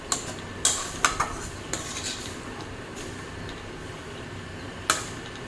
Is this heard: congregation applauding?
no